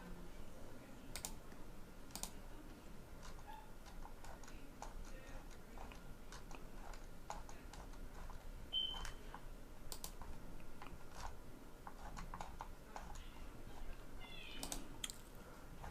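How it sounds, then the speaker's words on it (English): Keys tapped on a computer keyboard as a stock ticker is entered, faint scattered clicks over a steady background hiss with no talk. "Let me just type in ticker symbol NET"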